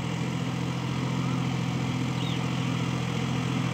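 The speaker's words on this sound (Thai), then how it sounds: "ดูนี่ครับรถไถนิวฮอลแลนด์ครับ3สูบ" A New Holland TT45 three-cylinder tractor engine runs steadily nearby, a constant low droning hum with an even throb and no speech.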